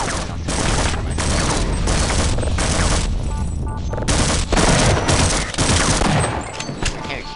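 Rapid bursts of gunfire from a shotgun in the video game Half-Life ring out loud and close, a dense run of repeated blasts with brief pauses between volleys.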